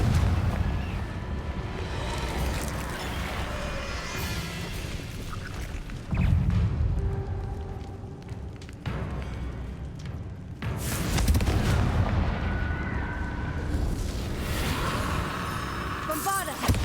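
Repeated Confringo fire-blast spell explosions in the video game Hogwarts Legacy, heavy booming bursts with loud surges around the middle and later, over continuous battle noise and game music.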